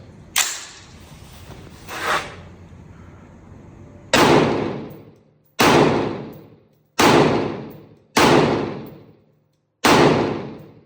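Unsuppressed rifle shots at 50 yards, five loud sharp cracks evenly spaced with ringing decay after a couple of fainter earlier pops, heard outdoors with no talking.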